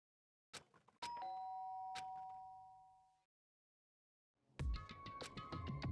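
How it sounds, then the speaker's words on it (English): A doorbell in the Danganronpa video game chimes twice with a bright, ringing ding-dong that slowly fades, then after a short silence a second clear chime rings out over a low rumble. "did I hear the doorbell?"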